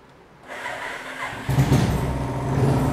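A Royal Enfield Thunderbird motorcycle engine cranks into life after a quiet moment, then settles into a close, steady mid-pitched idle that grows a little stronger.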